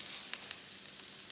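Noodles going into a hot pan with onions, giving a faint, steady sizzle with a few brief crackling spikes.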